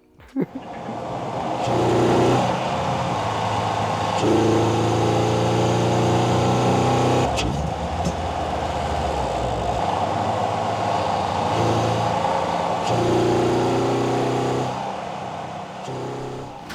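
A Toyota GR86 drives steadily with a deep, droning aftermarket exhaust, engine note rising and falling through shifts, with road and wind noise throughout.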